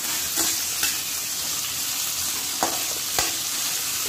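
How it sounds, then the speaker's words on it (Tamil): Steady sizzle from a pan sautéing for channa gravy, with a few sharp scraping strokes of a spoon stirring at irregular intervals, close and continuous. "நல்லா போட்டு வதக்கணும்"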